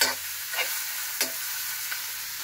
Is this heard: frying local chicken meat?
yes